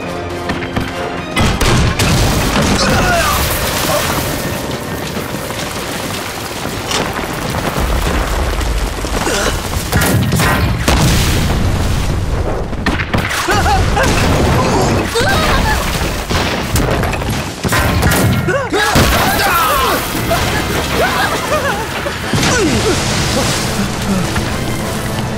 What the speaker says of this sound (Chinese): 他们在炮轰码头，咱们这回去就是送死啊！